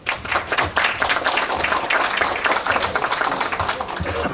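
Sustained audience applause at a Peruvian engineers' evening ceremony honouring fishery engineers, many hands clapping steadily and fairly loud throughout with a faint voice underneath.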